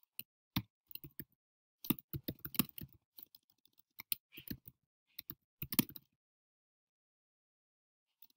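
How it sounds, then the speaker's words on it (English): Keys clacking on a computer keyboard in quick uneven bursts, close and clear, each flurry separated by short pauses before the typing falls silent near the end. "Go here and type in Beacon Finance."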